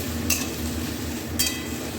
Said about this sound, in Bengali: পেঁপেটা একটু ভেজে নিই এই ফোড়নের মধ্যে